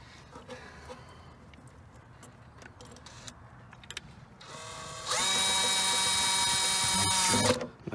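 Power drill tightening the hose clamp on a cold air intake for a Mercedes C300, with quiet clicking and handling before a loud, steady whirring burst of about three seconds that stops abruptly.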